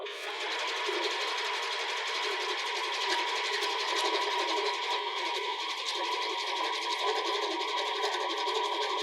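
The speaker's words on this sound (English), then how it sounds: "I'm just going to zigzag pretty close to the edge of the seam allowance" A sewing machine running a zigzag stitch along the seam allowance of a sports bra, a steady close whirring hum with fine rapid rattling, no voices.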